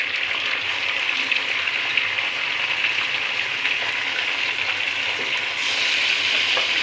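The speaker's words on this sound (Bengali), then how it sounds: "মশলাটা দিয়ে একটু কষিয়ে নেব" Spice paste frying in a pan for a Bengali fish curry with vegetables, giving a steady, close, even sizzle and crackle that holds unbroken throughout, with no talking.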